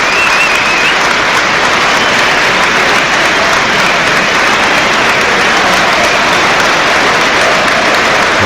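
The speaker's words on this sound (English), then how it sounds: "There's applause here for a young Watford supporter." A football stadium crowd at a Manchester City versus Watford match applauds a young Watford supporter, a loud, dense, continuous wash of clapping from thousands of hands that holds steady throughout.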